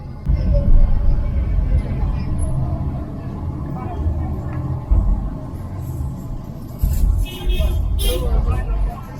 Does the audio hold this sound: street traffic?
yes